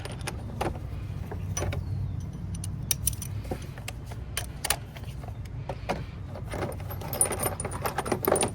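Metal tools and sockets rattle and clink while someone digs for a 10mm socket during spark plug work on a 2021–2022 Chevrolet Trax 1.4, with scattered close, sharp jangles and clicks over a low background rumble and no speech.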